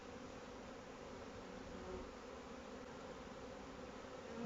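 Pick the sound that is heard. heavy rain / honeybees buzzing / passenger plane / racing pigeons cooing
honeybees buzzing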